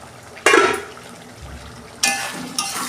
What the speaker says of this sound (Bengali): ঢাকনা খুলছি